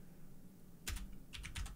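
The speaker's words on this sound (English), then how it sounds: "if you start typing a color" Short bursts of computer keyboard typing while text is entered into Notion, a quick cluster of clicks followed by a second run of keystrokes, close and clear over a quiet background.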